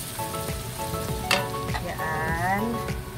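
Onion fries in a pan for an eggplant steak dish, a close, steady sizzle with brief clattering stirs and a faint tonal hum in the background.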